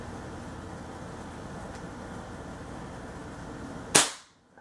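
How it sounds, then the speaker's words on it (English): A bolt-action pellet airgun with an upgraded valve fires one sharp, loud crack over a steady background hum, then the sound drops to near silence. "Besides, I get to shoot a bolt action."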